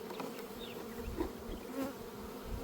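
Honey bees buzzing around a hive box during a summer check, a steady close drone of many insects with individual bees whining past the microphone.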